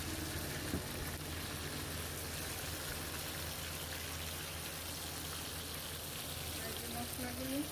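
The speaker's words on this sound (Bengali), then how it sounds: "মুরগিগুলো ভাজা হয়ে গিয়েছে।" Pieces of chicken frying in a pan give off a steady, close sizzle and crackle that runs unbroken throughout, with a low hum underneath.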